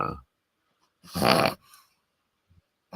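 A dog sniffles and snorts close by in a short burst of breathy snuffling, with brief quiet pauses before and after.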